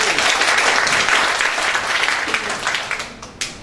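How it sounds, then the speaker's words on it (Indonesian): Audience clapping together at an indoor gathering, a steady dense applause that stays fairly even for a few seconds before thinning out. "Beri aplaus untuk kita semua."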